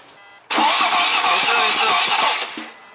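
BMW 520D diesel engine cranking with a broken timing chain, a sudden loud starter whir with a fast, even, uneven-free spinning rhythm that never catches, lasting about two seconds before winding down, close up.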